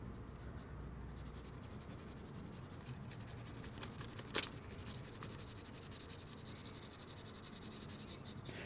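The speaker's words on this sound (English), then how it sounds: "I'm using the side of the pencil" A pencil shades paper with the side of its lead, giving a steady soft scratchy rubbing that continues throughout, quiet and close, with one brief sharper tap midway and no talking.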